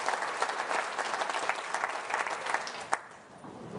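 Audience applause at Andy Burnham's leadership speech, a dense crowd clapping steadily at moderate distance with a few sharper claps standing out, fading slightly at the end.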